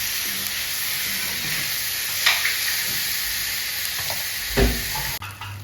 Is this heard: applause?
no